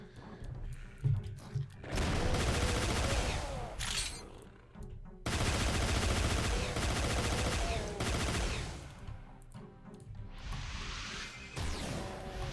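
Rapid pistol gunfire rattles through a first-person shooter video game, loud sustained bursts of shots with whooshes and impact crashes, broken by short lulls between exchanges.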